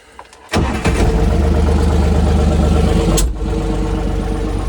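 A DTZ 5244NRKh tractor engine starts and settles into a loud, steady diesel running, with a brief drop in level partway through. The tractor works a field sowing soybeans with a Zarya 16-row seeder. No one speaks.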